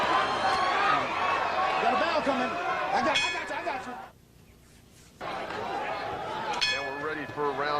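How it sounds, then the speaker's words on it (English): At the Shane Mosley vs Wilfredo Rivera boxing match, the ring bell ends the round with a couple of bright metallic clangs, heard under steady commentary and crowd noise. "Got a bell coming."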